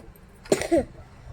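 A single short cough, close and fairly soft, in a quiet home kitchen, followed by faint room noise.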